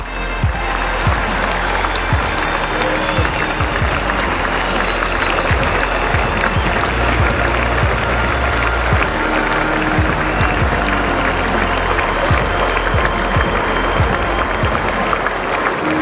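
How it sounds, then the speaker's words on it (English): A large stadium crowd at an AFL match between North Melbourne and the Western Bulldogs stands and applauds club legends, a loud, sustained roar of clapping and cheering filling the space without pause. "I now ask those that are able to please stand and applaud North Melbourne's living legends"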